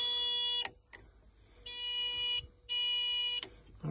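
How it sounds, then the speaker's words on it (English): Added turn indicators on a 1936 Austin Seven beeping, three steady electronic tones repeating in an on-off rhythm, each lasting under a second, close and clear with faint clicks between. "You can hear them beeping away."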